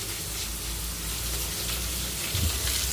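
Onions sauté in a pan for an egg curry, giving a soft, steady sizzle and faint crackle that runs evenly throughout, quiet and with no one talking.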